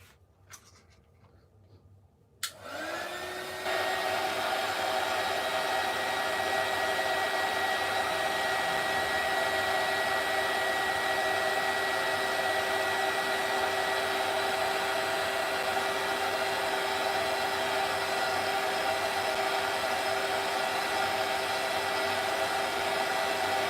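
Heat tool switching on after a quiet moment and blowing steadily to heat-set ink on a card, a constant whirring hum with airy rush that runs unbroken for the rest of the span.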